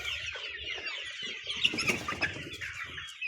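Two-month-old chicks chirp and cluck in a busy, high-pitched chorus, with wings flapping at moments and no talk.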